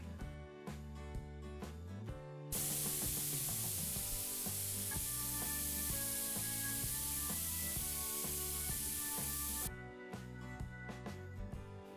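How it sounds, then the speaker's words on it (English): An airbrush being cleaned sprays in one loud, continuous hissing burst of several seconds, with clattering music before and after it. "Time to clean the airbrush so we can get to the fun part."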